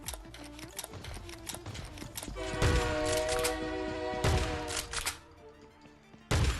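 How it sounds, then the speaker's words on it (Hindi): Gunfire in the mobile battle game Scarfall 2.0: bursts of loud, sharp shots, some in rapid sequences and some single, over a busy layer of game sounds. "तभी देखो सामने से और गन साउंड आते हैं।"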